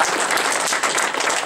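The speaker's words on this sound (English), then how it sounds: "I would really give a big round of applause for this." An audience at a presentation gives a round of applause, dense, bright clapping from many hands that stays loud and steady through the brief moment.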